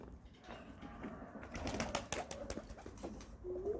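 A pigeon lands nearby with a quick flurry of wing flaps and soft clattering taps, faint against a quiet outdoor background, with a short coo-like note at the end.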